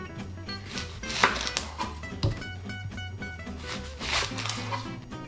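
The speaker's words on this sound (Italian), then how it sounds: "Li tagliamo così in modo grossolano, tanto servono solo per fare il brodo." A knife coarsely chopping carrot, onion and celery on a board for a broth, giving a series of close, uneven knocks over a low tonal background.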